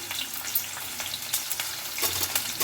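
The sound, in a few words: okra pieces and curry leaves frying in a pan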